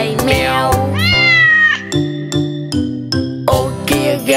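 A cat meows repeatedly inside a Vietnamese children's song, drawn-out mews over a bouncy, rhythmic musical backing with pulsing accompaniment.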